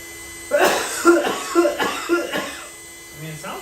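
Someone coughing repeatedly while eating a donut, a run of four or five rough, close coughs with short gaps, then a brief low throat sound at the end.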